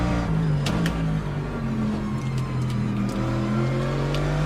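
A Lamborghini race car engine in a racing video game at Fuji drones and rises in pitch through the gears, a loud steady whine with other cars' engines layered close behind.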